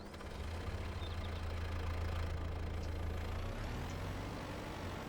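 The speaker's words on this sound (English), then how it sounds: "My tractor keeps stalling" A tractor engine stalling in the game Farming Simulator 22, a low, rough, steady chugging drone that holds loud and close, then falters and weakens toward the end, with no talk.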